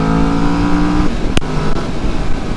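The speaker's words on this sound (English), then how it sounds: "This thing produces a little throaty engine note there" Engine note from a 2019 Kawasaki Vulcan S cruiser motorcycle, a steady throaty hum that drops off partway through, followed by a brief sharp knock and lower, rougher running.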